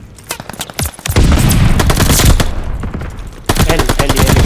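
Rapid gunfire bursts in Call of Duty Vanguard, a ranked 4 vs 4 match: scattered single shots at first, then dense sustained automatic fire, a brief pause, and another loud burst at the end.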